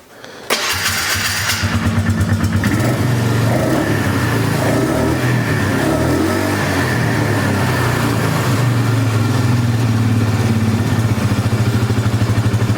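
A Polaris 325 Magnum ATV engine starts with a sharp catch and settles into a loud, steady idle that holds for the rest of the stretch, close by and with no talking.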